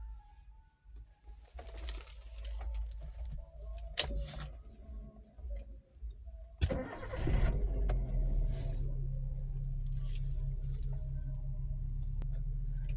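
Manual car engine starting: a brief crank and catch, then a low, steady idle rumble that continues to the end. Faint birds coo in the background beforehand.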